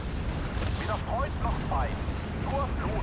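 Rocket artillery firing in the Steel Division: Normandy 44 war game: repeated whistling shrieks of launched rockets rise over a continuous heavy rumble of battle.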